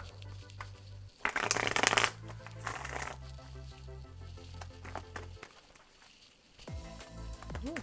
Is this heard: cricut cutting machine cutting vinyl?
no